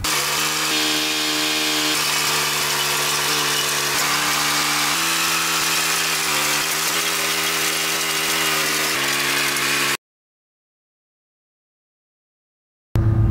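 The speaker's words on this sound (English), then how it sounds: "So I've stopped the trenching machine here because of these utility markings." A trenching machine digs a drain tile trench a few feet from a house, its engine a loud, steady droning roar for about ten seconds. It then cuts to silence, followed by a short final burst of noise.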